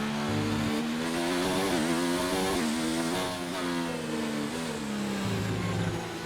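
A race car engine in a video game revs hard with overtake ERS boost, a loud, continuous high-pitched whine climbing and dipping through gear shifts, close and alone without talking.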